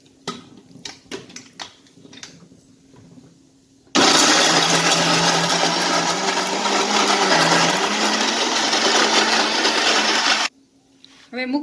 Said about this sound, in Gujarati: हवे तेने खजूर अने आ मूंगफली दाणा ने बेने क्रश करशुं।